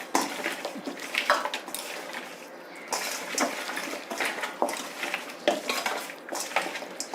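Pangas fish pieces being mixed with turmeric powder in a bowl give off steady, close clattering and scraping of bowl and utensil, with irregular bursts of wet stirring and no voices.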